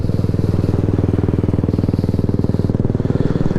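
A TVS Apache RR 310 motorcycle idles close by, its illegal aftermarket exhaust silencer popping in a rapid, steady, throaty thump that carries through the whole stretch without a break.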